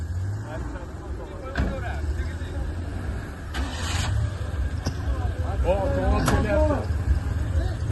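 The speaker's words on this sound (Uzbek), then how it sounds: "Hozir ana mashina ham chiqib olsin." A car pulls out on a street in Fergana region, its low engine rumble building gradually beneath people talking nearby, with a few scraping clicks.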